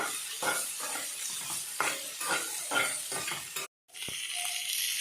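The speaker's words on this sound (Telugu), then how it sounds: "ఇప్పుడు వేసుకోవాలి పచ్చిమిరపకాయలు పచ్చిమిరపకాయలు ఫ్రై అయ్యేంత వరకు తిప్పుకోవాలండి" Green chillies fry in a hot pan for a tangy gongura roti pachadi, giving a steady close sizzle broken by rhythmic stirring scrapes, with a brief drop to silence near the end before the sizzling resumes.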